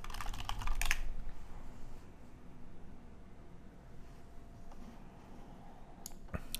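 Computer keyboard keys clatter rapidly in a short burst while an installer command is entered on a Mac. A near-silent stretch follows, then a few last keystrokes arrive near the end, close and fairly quiet.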